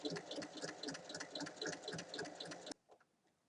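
A sewing machine runs fast and close, stitching a bag lining seam in one continuous mechanical chatter that stops abruptly near the end, leaving faint quiet.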